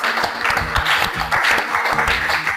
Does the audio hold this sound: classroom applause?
yes